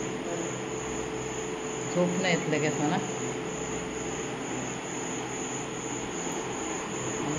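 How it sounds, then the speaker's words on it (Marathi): Crickets chirp steadily at night on a village terrace, a continuous high trilling bed throughout, with brief faint speech partway through. "आणि इकडे बघा रातकिड्यांचा आवाज"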